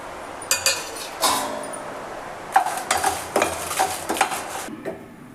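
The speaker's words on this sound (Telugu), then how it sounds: "ఫస్ట్ ఎండుమిర్చిని వేయించుకుందాం." Dry red chillies roasting in a pan with ghee, with repeated clinks and scrapes of a spoon stirring against the metal pan in bursts, close and fairly loud, no talking.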